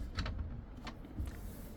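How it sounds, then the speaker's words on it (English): A drawer slides open inside a Wingamm Oasi 690 Twins fibreglass motorhome, giving a few short, close scraping runs with quiet gaps between them. "I'll open the drawer up so you can see down here"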